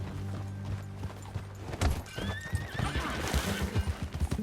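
A horse in the video game Red Dead Redemption 2 lets out a loud, wavering whinny while hooves clop unevenly nearby, with a few sharp thuds and snorts mixed in.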